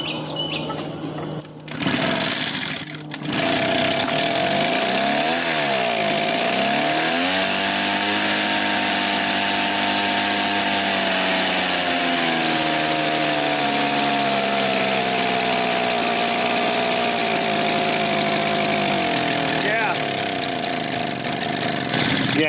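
Vintage Echo PB 403T backpack leaf blower, refurbished and running on premium fuel mix, revving up to full throttle and holding a loud, steady high-pitched engine roar, close by with no talking.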